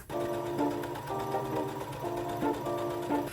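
A sewing machine stitching a dress neckline seam one centimetre from the edge, close and steady whirring in several short bursts with brief pauses between runs, no talk.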